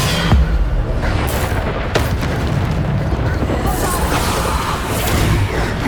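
Bombarda spell explosions in Hogwarts Legacy: loud, continuous booming blasts and rumbling, with sharp cracks among them and a voice calling out over the din.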